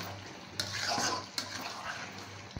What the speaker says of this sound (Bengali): হলুদের গুঁড়াটা দিয়ে খুব ভালোভাবে আমি আবারও এখানে নেড়ে চেড়ে নিচ্ছি